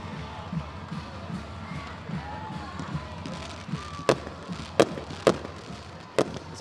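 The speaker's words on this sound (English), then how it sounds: "So we got some fireworks." Fireworks bursting over a high school football game, Hahnville versus Ouachita Parish, with several sharp, loud bangs in the second half rising above a steady crowd murmur and band noise.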